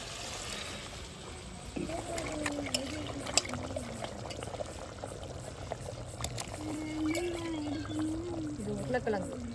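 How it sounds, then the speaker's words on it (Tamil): Water pours into a simmering chicken curry gravy cooked at night, a steady liquid splash with faint tonal voice-like sounds and low background noise. "குழம்புக்கு தேவையான அளவுக்கு தண்ணி ஊற்றிக்கிறோம்."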